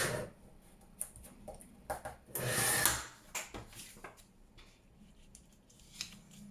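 Scissors snip through paper for a junk journal, cutting a flap off in a few crisp bursts and one longer slicing stroke, quiet and close amid small handling rustles.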